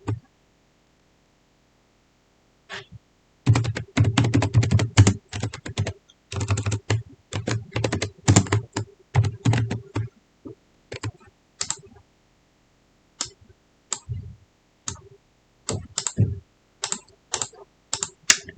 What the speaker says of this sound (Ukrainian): Ну і ще можна створювати ось такі нотатки і теж на них щось писати.